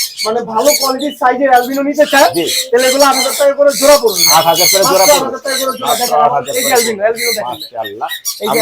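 Large parrots such as Moluccan cockatoos and Amazons squawk at a bird farm, repeated loud harsh calls in close succession, with people talking among them.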